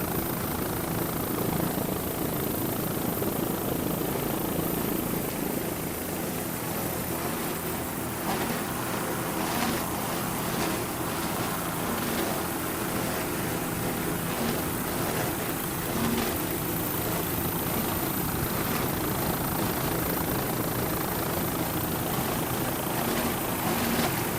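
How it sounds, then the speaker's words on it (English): Offshore racing powerboats at the 1999 world championships in Key West, their engines giving a loud, steady roar that holds for the whole stretch with faint pulsing in the throttle, and no voices. "Nice throttling there by Mr. Todd Welling."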